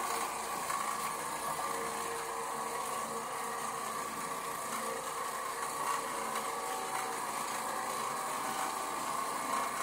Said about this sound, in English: The machine sounds a little rattly compared to normal.